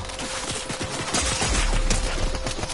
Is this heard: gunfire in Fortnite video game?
yes